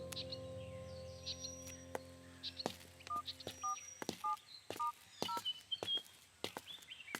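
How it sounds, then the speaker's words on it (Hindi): A telephone keypad is dialed as a quick series of distinct electronic tones beeping one after another, faint against ambient birdsong and light movement noises. "ठीक है, मैं उसे अभी फोन करती हूँ।"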